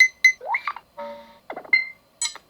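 A series of short, varied electronic notification chimes from a Nothing Phone 3 smartphone, each a brief bright tone or sweep separated by tiny gaps, played close and clean with nothing else audible.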